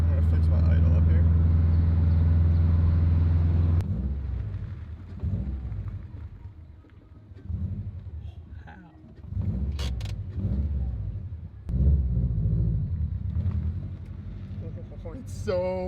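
A Subaru engine with a newly installed Invidia downpipe idles steadily and loudly at first, then settles lower and rises in brief revs, with people talking over it.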